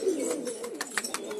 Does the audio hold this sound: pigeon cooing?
yes